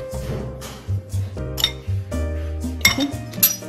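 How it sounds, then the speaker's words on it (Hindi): Half a cup of sugar poured into a bowl while making lemon bites, heard as a run of close clinks and clatters of a cup and spoon against the bowl, with a few sharper taps near the end. "1/2 कप के करीब हम चीनी इसमें डाल देंगे"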